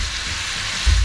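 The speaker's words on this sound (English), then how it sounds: "So we frying him up some bacon," Steady, close-up sizzling of bacon frying in a pan at a lakeside boat camp, a bright crackling hiss with a soft low bump near the end.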